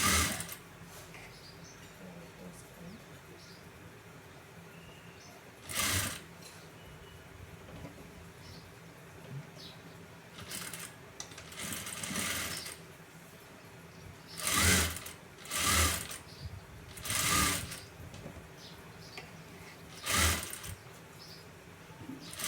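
A sewing machine stitches a model blouse with a design, running in several loud bursts separated by pauses over a quiet background, with a fast rhythmic whir in each run.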